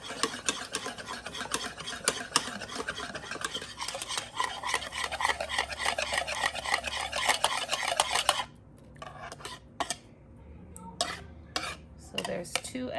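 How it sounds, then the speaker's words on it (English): Eggs whisked in a bowl for cupcakes, a fast steady scraping and clinking of utensil against the bowl for about eight seconds, then stopping, followed by a few scattered knocks and taps. "in this bowl, I'm just gonna whisk these eggs"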